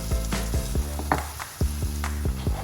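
Egg chips batter poured into hot oil and frying, a steady sizzle with repeated soft bubbling pops and occasional light clinks, close and fairly quiet with no talk.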